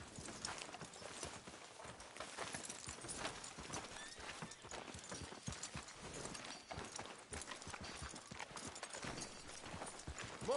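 Steady clip-clop of horse hooves trotting at an even pace in the video game Red Dead Redemption 2, close and continuous, with no voices.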